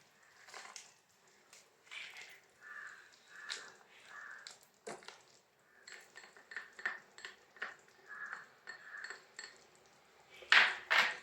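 A spoon clinks and scrapes against a pot while fried coconut pieces, cashews and raisins are stirred into carrot payasam, giving a string of close, quiet metallic taps and rattles with short pauses between them.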